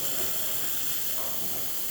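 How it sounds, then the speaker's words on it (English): Strong, steady steam hiss from a La Pavoni espresso machine after a full tune-up, loud and continuous throughout with no talk over it. "Nice strong steam."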